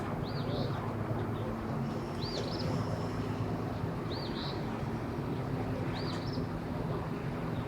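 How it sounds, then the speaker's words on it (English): Water and boats on a waterfront, a steady low rumble and wash with faint repeated bird chirps above it. "The water, the boats."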